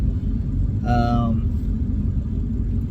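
A vehicle towing an enclosed trailer drives south on a highway, with a steady low road rumble and engine drone filling the cabin and a brief voice near the start.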